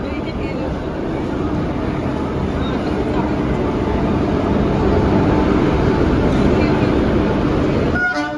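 The Aranyak Express rolls into a station platform at Santragachi with a steady, loud rumble of wheels and carriages that builds and holds, and a brief horn-like toot near the end.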